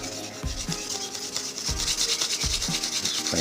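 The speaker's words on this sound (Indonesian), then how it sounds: "Terus diamplas seluruh sisi-sisinya supaya rata" Sandpaper is rubbed over the edges of a ring made from dried banana leaf. The rasping strokes are close and repeated in a steady back-and-forth rhythm, with no talking.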